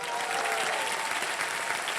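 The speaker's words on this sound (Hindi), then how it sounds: "जोरदार तालियां उनके लिए।" Studio audience at a televised game show breaks into continuous, even applause, a dense crowd of clapping hands filling the whole short moment at moderate level.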